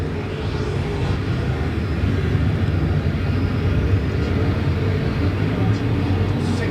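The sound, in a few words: IMCA modified race cars racing at Perris Auto Speedway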